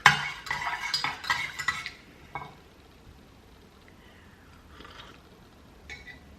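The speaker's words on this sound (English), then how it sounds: "I'm just going to put in a little bit of sweetness. See if that helps the cause a little bit. Give it a stir." A spoon stirring a sweetened birch polypore drink in a cup, a brisk run of clinking scrapes for about two seconds, then a few faint later taps.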